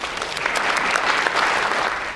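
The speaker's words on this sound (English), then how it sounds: "Let's give Taylor a big round of applause." Loud, dense applause from a crowd, steady and sustained for the whole stretch with no talking over it.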